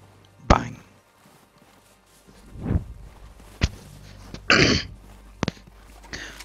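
Several short, sharp coughs and throat-clearing bursts, spaced irregularly with quiet gaps between, close and fairly loud, no talking.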